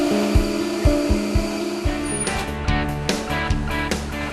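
A grinding machine in a rice cake shop processes fresh mugwort for rice cakes, giving a loud steady mechanical whir with rhythmic knocking and rising grinding noise, no voices.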